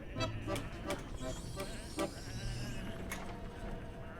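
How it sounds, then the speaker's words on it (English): Sheep in the adventure game Whateverland bleat in a steady series of short, wavering calls, several overlapping, set against a low ambient game backdrop. "Come on, these are just sheep."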